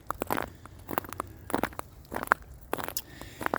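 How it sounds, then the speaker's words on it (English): Footsteps in spiked shoes crunch over crackling ice, a steady walking rhythm of sharp crackles and crunches heard up close, with no talk. "I can hear the ice crackling underneath my feet."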